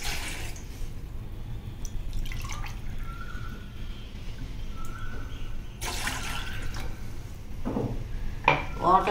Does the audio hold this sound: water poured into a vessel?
yes